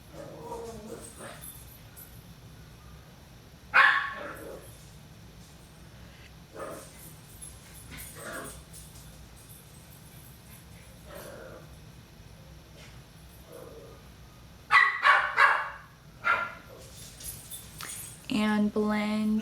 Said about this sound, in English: my dogs are playing